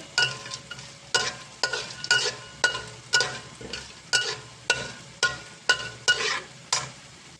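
Chopped almonds, cashews and pistachios fry in hot ghee for carrot halwa, with a regular rhythm of close, crisp stirring strikes against the pan, about two a second, over a low background sizzle.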